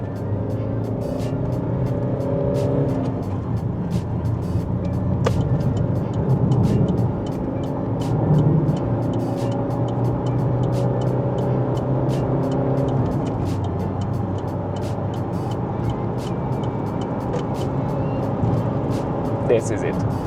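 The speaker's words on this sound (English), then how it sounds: "let's hear the noise inside the car at 130." Steady low rumble of road and engine noise from inside a 2011 Opel Insignia on the motorway at 130 km/h, constant and droning with faint wind hiss.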